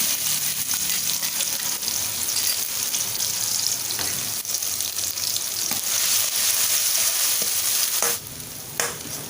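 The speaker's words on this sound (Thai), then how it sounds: "น้ำมันร้อนเราก็ใส่ พริกกับกระเทียมนะคะ" Chili and garlic frying in hot oil in a wok, a steady loud sizzle running throughout with occasional stirring scrapes and brief spikes, no talking.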